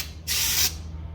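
Brake cleaner sprayed from an aerosol can into the intake manifold of a drift car, one short, sharp hiss of about half a second, close and loud against a low background hum.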